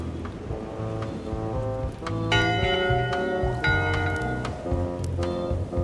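Ship's bell ringing aboard LeChuck's ship in Return to Monkey Island, bright bell strikes sounding over a busy musical score with sustained tones, loud and near.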